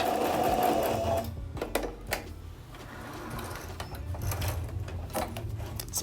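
A sewing machine runs a straight stitch with a fast, close mechanical chatter of needle and feed, pausing briefly before starting again, accompanied by light handling clicks.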